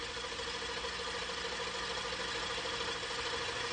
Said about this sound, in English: This then is the actual injection while the engine is running.